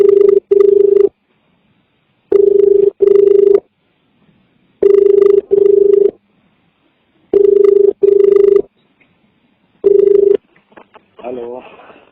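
A telephone ringback tone repeats in loud double bursts with silent gaps between them while a call to a university exam controller is being put through, and a voice starts speaking at the end.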